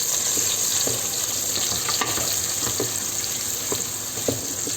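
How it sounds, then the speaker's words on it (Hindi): Chopped onions dropped into hot oil in a pan for keema aloo, producing a constant moderate sizzle with a few sharp clinks and taps from utensils, no talking. "तो हम लोग सबसे पहले प्याज ऐड करेंगे।"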